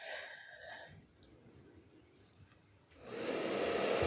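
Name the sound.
blow dryer on low speed blowing paint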